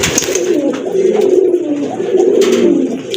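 Pigeons coo steadily and loudly at close range, in a repeating throaty pattern that continues through the whole stretch, apparently from birds kept for sale at a pigeon market.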